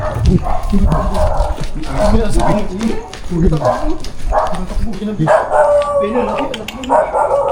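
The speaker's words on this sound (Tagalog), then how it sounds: "Ay, may aso, may aso." Dogs bark repeatedly in loud bursts at a cemetery, several yaps and woofs overlapping, with people talking close by.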